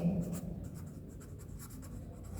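A pen or chalk scratches steadily across a classroom board during a Class 6 maths lesson on data handling, soft continuous strokes heard up close at low volume, with no speech.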